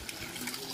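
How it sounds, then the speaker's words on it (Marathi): Water runs down terraced farm fields on a hillside, from upper plots to lower ones, in a brief, steady rushing trickle. "वरच्या भागातून खालच्या भागात पाणी येतं"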